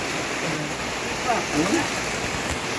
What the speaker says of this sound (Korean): 오늘도 비가 오니까